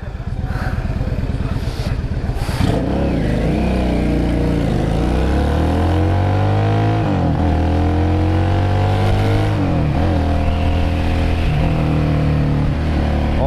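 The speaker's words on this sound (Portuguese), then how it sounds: "Olha o torque dessa moto" A 2003 Yamaha Drag Star 650 motorcycle pulls away hard, its loud, close engine note rising and falling through revs and gear changes, with the exhaust dominating throughout.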